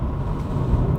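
2020 Volkswagen Jetta 1.4-liter turbo engine pulling smoothly under acceleration, a steady low rumbling drone from inside the cabin, brief and continuous with no voices.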